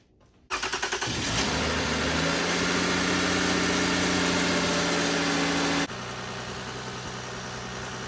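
A 2007 Lexus ES350 engine cranks and catches after a brief quiet moment, then settles into a loud, steady idle with a strong tonal hum, dropping slightly in level near the end.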